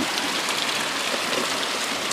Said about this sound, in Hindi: देखिए कितना ज़्यादा बारिश हुआ।